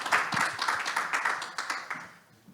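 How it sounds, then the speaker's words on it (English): At a women's sports summit, an audience claps with a soft, steady patter of many hands. It sounds fairly distant and quiet, then thins and fades out toward the end. "a round of applause for Shon"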